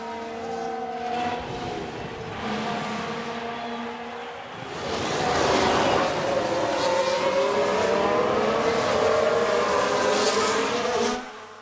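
Simulated F1 Manager 22 race car engines whine with steady harmonic tones, then swell into a louder, rougher burst of tyre and engine noise around the midpoint as a car spins out in the video game, no talk over it.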